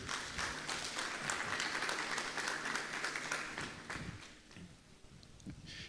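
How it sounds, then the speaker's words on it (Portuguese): Church congregation applauding during a service, a fairly faint, roomy patter of many hands that holds steady and then tapers off toward the end, with a low voice briefly audible. "Você pode dar uma salva de palmas a Deus, meu querido?"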